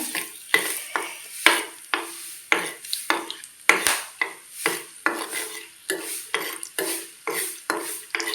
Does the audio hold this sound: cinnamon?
yes